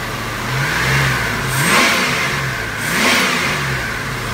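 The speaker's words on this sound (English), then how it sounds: "Comes up as we rev the engine up just like it should." A Chevrolet LS 5.3-litre V8 running on an engine test stand revs up twice from a steady idle, each throttle blip rising and falling back, loud and close with no talk.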